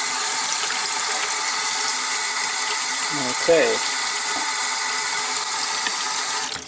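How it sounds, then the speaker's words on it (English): Water runs steadily into a Suburban SW6DE RV hot water heater tank, a constant hissing rush with some brief spurting gurgles midway, and a voice speaks briefly. "once it stops spurting or bubbling and runs pretty solid, then your hot water heater will be full again"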